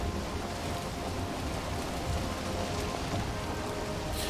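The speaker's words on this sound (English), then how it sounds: "Rain." Steady rain in the video game Valheim, a constant hiss of drops falling on surfaces with no break, loud and close throughout.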